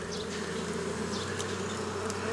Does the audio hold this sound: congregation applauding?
no